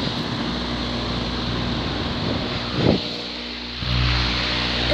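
A floor fan motor running steadily on speed setting 2, a continuous loud whirring drone with a brief bump in the middle and no talking.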